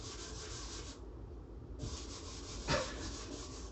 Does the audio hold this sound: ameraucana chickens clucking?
no